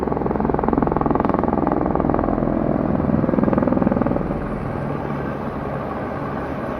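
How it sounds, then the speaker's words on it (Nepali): A helicopter passes over flood-hit Nuwakot along the Trishuli river during rescue work, giving a loud, rumbling rotor throb that holds steady for about four seconds and then eases to a lower, more distant drone. "यो हेलिकप्टर कुदै छ हेर्नुहोस्"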